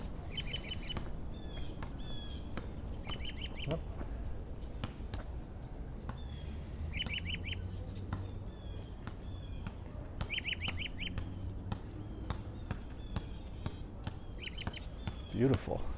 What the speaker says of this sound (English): It's so funny, all the geese hanging out on this lawn.